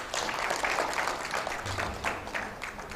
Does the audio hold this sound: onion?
no